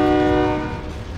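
A train in a video game, a loud, close horn-like tonal blast with a rumbling rail undertone that fades over about a second, with no talk.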